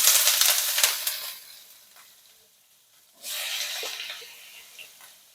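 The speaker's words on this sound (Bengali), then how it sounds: "তেলটা গরম হয়ে গেছে, এখন আমি আলু পেঁয়াজটা ছেড়ে দেবো।" Potatoes and onions drop into hot turmeric-tinged oil in a wok, first a fading sizzle, then a sudden loud burst of hissing frying that stays steady, with no voices.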